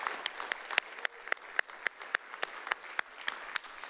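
Audience at a city council meeting applauds the graduates, fairly faint overall with a handful of sharp individual claps repeating at a quick, even pace above softer background clapping.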